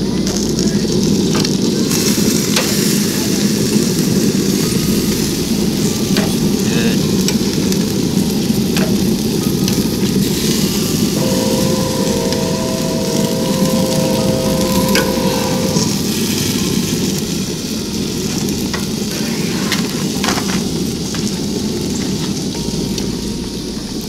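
Egyptian goose meat sizzles steadily on a grill, a dense, continuous crackling hiss like light rain that holds fairly loud throughout, with a brief faint tonal whine partway through and no voices.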